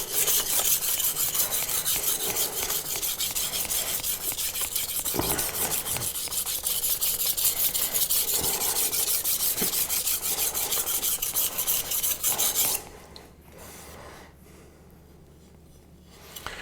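A knife is sharpened on a Kramer Zwilling 400 grit whetstone with steady, rapid rasping strokes, close and continuous for about twelve seconds before stopping abruptly into quiet.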